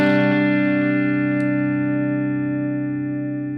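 An electric guitar through a Boss GT-1000 with a dotted-eighth delay rings out as one sustained chord, fading slowly and evenly across several seconds, with no other sound.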